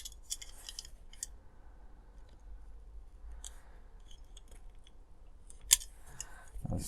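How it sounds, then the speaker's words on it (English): A sharp Stanley blade cuts into dolls house material, giving a few quiet, sparse snips and scrapes separated by near silence, with one louder crisp cut near the end. "you're going to need a sharp Stanley blade, and you're just going to make some cuts in there"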